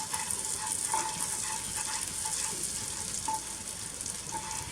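Jaggery being stirred quickly into sizzling burnt butter sauce for eggless pancakes, a steady soft sizzle with faint regular scraping strokes of the spoon, close and fairly quiet.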